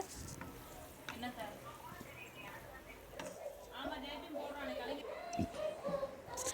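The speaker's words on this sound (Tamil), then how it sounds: "1 வெங்காயம் சேர்த்துட்டு அதையும் நல்லா வதக்கி விட்டுக்கோங்க." Onion sizzles steadily in frying oil with occasional stirring scrapes and clinks of a pan, close up, with faint voices in the background.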